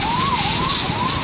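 A fire brigade truck's siren wails steadily and loudly throughout, rising and falling in a continuous sweep over a dense rumble of traffic, heard on the way to a fire at a paper mill.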